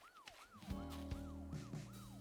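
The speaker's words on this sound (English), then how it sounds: "we can actually turn off the amazing machine so we can hear the siren" A synthetic siren in Animal Crossing: New Horizons wails in repeated rising and falling sweeps over steady electronic tones and low thumping beats.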